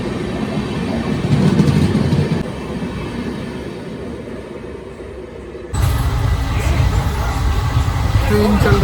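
Kolkata-bound Gurumukhi SF Express rumbles along the rails on its journey, a steady loud rolling din with a sharper surge partway through as the sound opens up.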